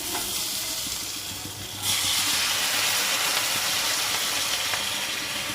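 Water is poured into a pan of fried spices for a Bengali fish egg curry, bringing a sudden loud hiss and sizzle that holds steady after a quieter frying start.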